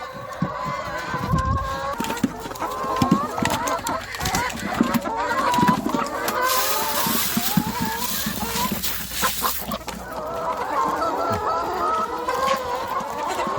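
A flock of about sixty to seventy chickens clucks continuously in a rural coop, with overlapping near and far calls and an occasional rooster crow.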